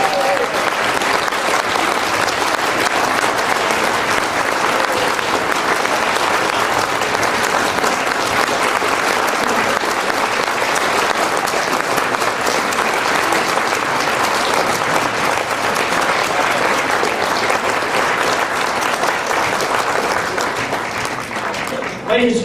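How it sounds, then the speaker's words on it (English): Audience at a Tea Party caucus during the California Republican Convention claps in sustained, dense applause, loud and continuous for the full span before tapering slightly at the end. "round of applause for the Congress."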